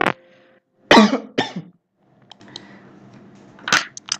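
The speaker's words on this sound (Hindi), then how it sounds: "खांसी आ गई थी मेरे को" A man coughs several times in sharp bursts after water went down the wrong way while drinking too fast, with throat clearing and small rustles between fits, close up in a quiet room.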